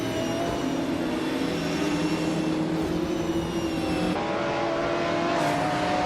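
A 1996 Lamborghini Diablo racing engine drones steadily at high revs, with smooth sustained harmonics and a slight pitch shift partway through, loud and continuous.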